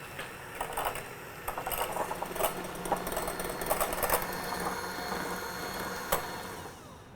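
An electric hand mixer whips egg whites to firm peaks for a homemade snack cake batter, a steady motor whir with the beaters clattering against the bowl, close and continuous.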